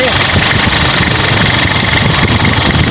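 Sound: Nissan Frontier pickup engine idling

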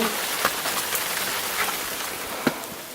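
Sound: rain falling

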